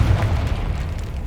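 Confringo fire-blast spell exploding in Hogwarts Legacy, a brief heavy boom with a deep rumbling body that quickly decays, loud and close.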